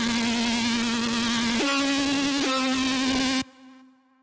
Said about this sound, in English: Next, we got the hybrid layer.